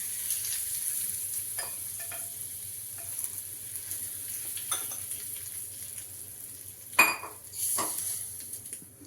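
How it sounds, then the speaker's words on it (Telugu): Hot tempering poured over amla and coconut chutney, with a steady background sizzle, scattered clinks of utensils and a sharper burst of frying and scraping near the end. "ఇప్పుడైతే మనము ఈ తాలింపు పచ్చళ్ళకి వేసుకుందాం"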